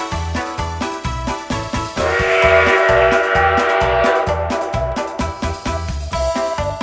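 Rhythmic clicking of a KATO N gauge C11 model steam locomotive pulling a train over rail joints on a rental layout, steady and close, with a brighter whirring hum swelling in the middle before settling back.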